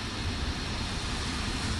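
Steady roar of a jet airliner engine in a flight simulator game, a continuous broadband rumble with a low drone underneath, no voices.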